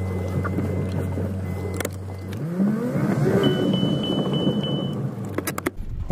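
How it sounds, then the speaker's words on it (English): A 1.4-litre Chevy Cruze pulls away and accelerates, its engine note rising steadily from a low idle hum, with a faint chime and light clicks inside the cabin. "So let's go for a drive, see how this thing acts."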